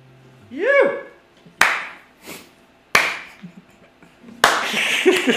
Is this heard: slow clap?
yes